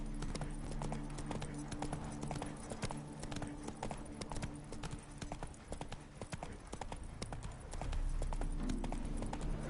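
Horse hooves clip-clop steadily on a road in The Witcher 3, a continuous rhythmic trot over a low ambient hum, with no talk.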